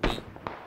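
A single sharp gunshot in the battle royale game PUBG, fairly faint and distant, followed by a couple of softer thuds and another small crack.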